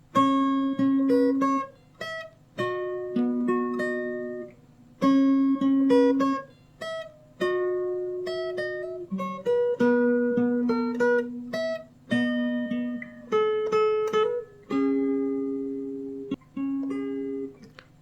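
Fingerstyle acoustic guitar playing a passage from a song, with plucked melody notes ringing over sustained bass tones in a steady, flowing rhythm, close and clear with no talking.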